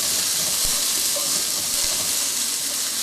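Onion sautéing in an oiled wok over high heat, a steady bright hiss and sizzle with a couple of soft spatula knocks, close and constant, no speech.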